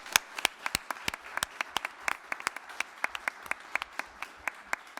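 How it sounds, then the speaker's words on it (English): Sparse audience applause for a keynote speaker and panel at a climate-smart agriculture panel event, a handful of distinct hand claps in an irregular rhythm, fairly close and moderately loud, continuing for several seconds with no talking. "our keynote speaker and our panel deserve a very warm round of applause"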